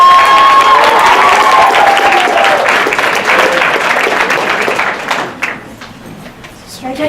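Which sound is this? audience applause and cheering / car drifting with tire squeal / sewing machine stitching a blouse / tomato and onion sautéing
audience applause and cheering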